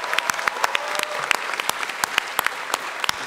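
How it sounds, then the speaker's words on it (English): Applause from a convention panel audience at PAX Prime for the game's development team: scattered, uneven clapping with sharp individual claps standing out, moderately distant and fairly quiet. "if I can ask for just a round of applause for all of the team members"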